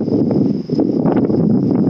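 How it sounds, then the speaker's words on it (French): Strong wind gusting over a mountain ridge in the Alps, a loud, steady broadband roar that buffets the microphone with brief surges and no pauses. "Il y a un vent là au niveau de la crête"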